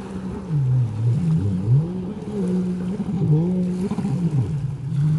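Motor drone of jet skis and boats out on the water, a fairly close engine note that rises and falls as the craft pass and turn, continuous with no talking.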